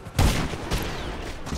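Gunfire in GTA 5 Online: a sharp close burst of shots at the start followed by a second report and a lingering rumbling tail, loud and alone without talk.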